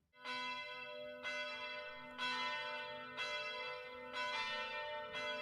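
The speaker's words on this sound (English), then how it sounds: "The bells!" Church bells ring in a steady, measured sequence of loud, resonant strikes, each tone ringing on and overlapping the next.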